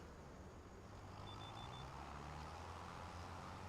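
A vehicle in the video game Farming Simulator 25 sounds its reversing alarm: a few short, faint, high beeps in quick succession over a steady low engine drone.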